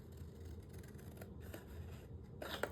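Scissors cut out paper pieces for a Stamperia mini album treasure chest, soft rhythmic snips and rustles near and quiet, ending in a sharper crisp cut.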